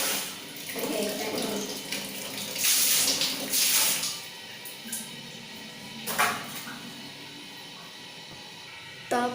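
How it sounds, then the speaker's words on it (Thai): A tap runs in a bathroom sink during face washing, the water splashing unevenly in bursts that swell and fade, with someone talking in the background at times. "เราจะไปล้างหน้ากันก่อนเลย"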